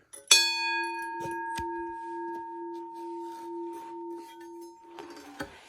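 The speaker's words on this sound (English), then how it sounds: "what I'm going to do is tip this bell over and I'll tap the gong" A single heavy railway crossing bell gong is tapped once with a key and rings out with a long, sustained tone that slowly fades, with light handling noises around it.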